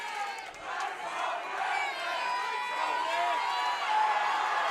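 A crowd chants rhythmically in a large arena during a college wrestling match, a sustained roar of many voices at moderate distance with commentators' voices faintly under it.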